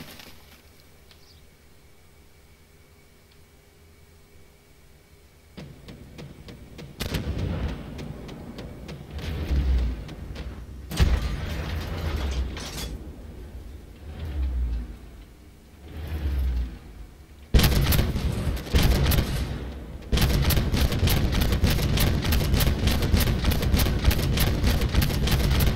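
Autocannon on a Wiesel tier-7 recon vehicle in Armored Warfare, firing in rapid repeated bursts that grow louder and denser toward the end, with engine rumble and scattered impacts between volleys.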